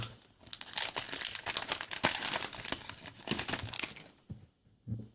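Harry Potter movie trading card packets are torn open and crumpled in a loud, continuous rush of crinkling and ripping foil and paper close by, which stops abruptly near the end.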